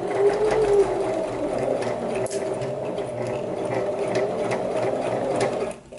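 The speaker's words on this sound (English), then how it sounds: "you can sew thinner, smaller sequins through the sewing machine" A sewing machine runs slowly through tulle with glitter sequins, a continuous close mechanical whirring and rapid ticking of the needle with no talk over it.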